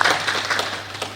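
Audience applause at the Uganda-Europe Business Forum, a burst of clapping from a seated crowd that is loud at the start and then sustained at a steady level for about a second.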